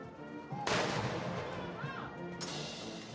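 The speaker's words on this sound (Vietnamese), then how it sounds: "đội nhạc nghi lễ kết hợp liên đội pháo binh thực hiện nghi thức bắn hai 21 phát đại bác" Artillery cannons fire a 21-gun salute at Taiwan's presidential inauguration ceremony: two loud, sharp booms a couple of seconds apart, each followed by a rolling echo over the open ceremonial ground.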